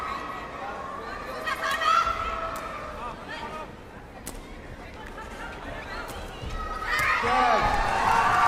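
Spectators at a Sepaktakraw World Cup match in Bihar, India, make noise as a steady roar of crowd voices, shouts and cheering. It swells louder near the end, with chatter throughout.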